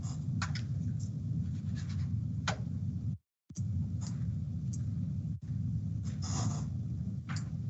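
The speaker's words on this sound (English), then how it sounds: "So I'm going to draw it." Pen or marker scratching and tapping across paper or a board while sketching a grid diagram by hand, steady close strokes with a brief pause midway.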